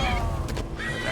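Horse whinny in the video game Skyrim, a short neigh rising over busy game sound and background music during combat.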